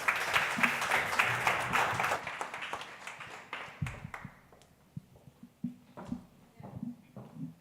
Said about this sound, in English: let's give Eduardo a round of applause as well